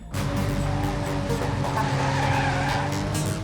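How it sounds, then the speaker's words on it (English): A car drifts through a turn in the Dreams racing game Tectonic, engine droning with a sustained tire skid and squeal running the whole stretch, loud and close. "I even did some good drifts."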